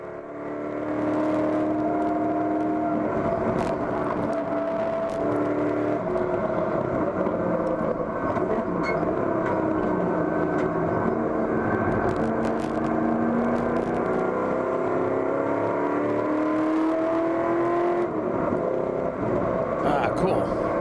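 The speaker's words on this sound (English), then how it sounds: "Couple vintage Mustangs out here this weekend racing with us." Race cars, among them vintage Mustangs, at an endurance enduro at Harris Hill Raceway make a steady, continuous engine drone with slowly shifting pitch, while voices talk over it throughout.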